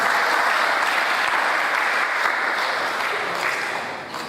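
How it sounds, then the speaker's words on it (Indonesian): Sustained audience applause at a church-style family gathering, dense and steady clapping from a large crowd that holds level throughout and eases slightly near the end. "Tepuk tangan buat suami-suami."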